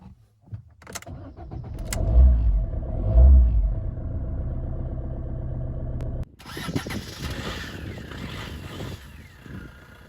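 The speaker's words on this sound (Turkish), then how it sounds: "Şimdi içeriden ve dışarıdan aracın çalıştırma sesini alacağım." A Fiat Linea 1.3 Multijet diesel engine cranks and starts with a rough low rumble, then settles into a steady idle; a muffled start from inside first, then a clearer idling engine from outside.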